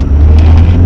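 A 1997 Honda Civic coupe with VTEC, driven as a winter car, revs loudly through a first gear pull, a steady low engine drone that holds close and strong through the whole moment.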